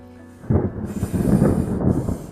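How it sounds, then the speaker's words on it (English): Thunder rumbles through a rainstorm, a deep rolling boom that swells suddenly after a quiet start and keeps grumbling loudly for about two seconds, with no voices. "There is thunder and lightning, and the trees are twisting in the wind."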